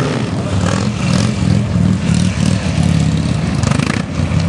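A Buell motorcycle engine revs hard in a continuous loud drone with rising and falling throttle and a mechanical clatter as the rider lifts a wheelie, close up, with no talking.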